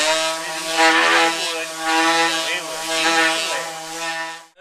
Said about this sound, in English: I use a fairly rough grit, like 80 grit sandpaper when I work